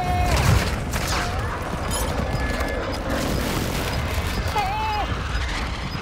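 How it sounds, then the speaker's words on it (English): Airstrike explosions in a multiplayer shooter game, a dense, continuous rumble of blasts and mechanical clatter lasting throughout, with players' voices talking over it. "Airstrike!"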